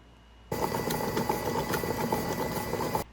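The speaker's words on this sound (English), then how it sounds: "So I'm gonna turn my mixer on and I'm gonna let these cream for about 2 or 3 minutes." An electric mixer switches on after a brief quiet moment and whirs steadily as it creams butter and sugar for a lemon pound cake. The close, continuous motor hum carries faint rattles throughout.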